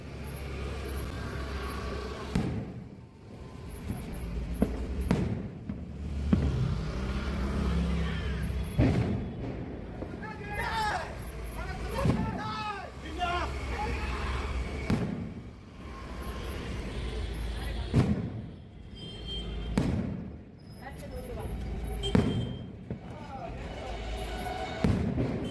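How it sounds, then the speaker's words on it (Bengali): Firecrackers bursting at intervals during a cricket match, sharp bangs and booms heard from a balcony, some distant and some nearer, with people talking throughout. "উইকেট পড়ছে আর বাজি ফাটছে"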